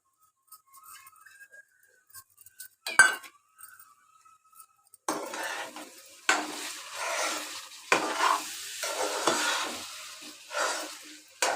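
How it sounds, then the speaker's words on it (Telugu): Cashew paste stirred into chicken frying in a pan: a quiet start with a few light clinks, then steady sizzling and scraping stirs in bursts, close and moderately loud, with no talking. "ఇప్పుడు కాజు పేస్ట్ వేస్తున్నానండి."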